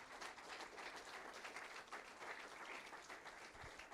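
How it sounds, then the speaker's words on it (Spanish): Congregation applause for God during a church service, a dense steady wash of clapping filling the room for several seconds without pause. "Fuerte el aplauso para Él,"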